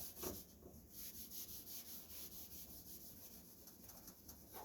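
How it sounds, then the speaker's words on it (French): A clean cloth with wax remover rubs back and forth along the base of a classic cross-country ski, making soft, steady rhythmic swishing strokes, close and quiet, with no talking. "Frotter jusqu'à bien tout enlever. On frotte, on appuie."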